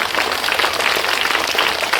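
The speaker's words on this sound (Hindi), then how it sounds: "जोर से तालियां इस बच्चे के लिए" Applause for a child after a Hindi poem recitation at a school event, a dense, steady patter of many hands clapping at moderate volume throughout, with no talk over it.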